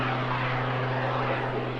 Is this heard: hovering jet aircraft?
yes